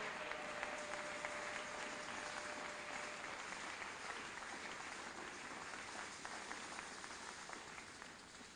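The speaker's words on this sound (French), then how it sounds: "Acclame encore pour la gloire de Dieu ce matin." A church congregation applauding during a morning service, steady sustained clapping from many hands throughout, fairly distant and even.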